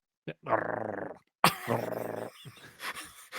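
A character in the film Sleepaway Camp makes animal growling sounds, two throaty rumbling growls close up, each lasting under a second, followed by a brief shriek and a scrape. The growls are a human voice imitating an animal.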